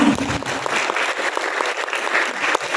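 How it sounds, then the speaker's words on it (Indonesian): Audience applause for eleventh-grade culinary students' practical exam work at a school ceremony, a steady wash of clapping from a crowd filling the whole stretch, moderately loud and without talk. "Tepuk tangan untuk anak-anak kelas 11."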